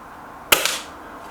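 A Stoeger XM1 bullpup air rifle fires a single pellet at a target, a sharp close crack with a brief tail and a faint follow-up tick, in an otherwise quiet setting.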